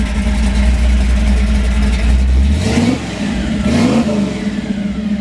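A 1955 Chevrolet Bel Air with a gear-drive engine runs close by with a loud, deep, lumpy rumble, settling after a few seconds and then blipping the throttle again, with no one talking.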